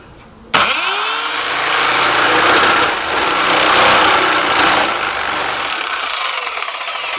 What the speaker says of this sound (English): So I've just set the router in the router jig, set the distance roughly right, and we'll just work our way in until it cuts all the way around